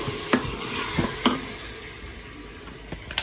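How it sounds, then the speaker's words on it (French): Food browning in oil in a pan, a soft steady sizzle broken by several sharp utensil scrapes and taps spaced through the few seconds, no voices. "je vais les laisser faire revenir dans l'huile"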